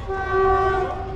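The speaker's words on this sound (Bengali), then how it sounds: "সেই ট্রেন ঢুকছে এখন, এটা রামপুরহাট থেকে আসছে।" A passenger train on the Rampurhat-Katwa line sounds a long, steady horn as it arrives at a station, loud and close, lasting about a second.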